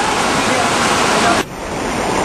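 Monsoon floodwater rushes past a bridge partly broken by the flood in Dharchula, Pithoragarh district, Uttarakhand. It is a loud, constant broadband roar that drops slightly near the end, with no pause.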